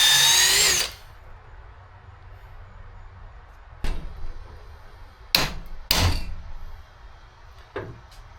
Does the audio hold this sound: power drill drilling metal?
yes